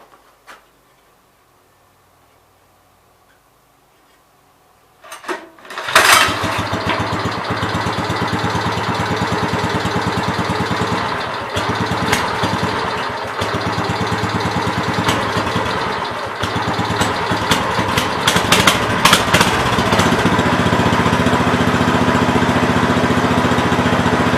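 Kawasaki-powered Gravely 5200 tractor engine, quiet at first, then it sputters, catches after a recoil pull and settles into a loud, steady running rumble close by with occasional uneven ticks.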